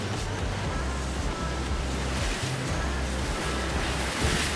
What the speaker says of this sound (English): The strong current is churning up the water.